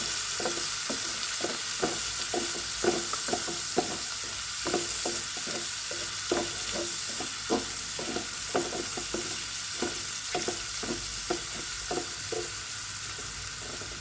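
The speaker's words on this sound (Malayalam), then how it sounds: "ഒന്ന് ഇളക്കാം." A fish moly curry is stirred in a pan, with a spoon scraping and tapping in a quick, regular rhythm over a soft background simmer, close and fairly quiet, with no talk.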